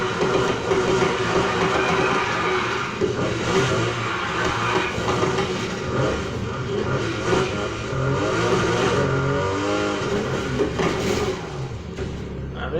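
A 1971 Nissan Skyline 2000 GT-R in Need for Speed Heat, raced and drifted, gives a continuous loud engine roar that rises and falls with revving and shifting throughout.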